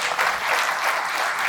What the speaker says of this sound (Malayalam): ഇനി കൈയടിക്കും.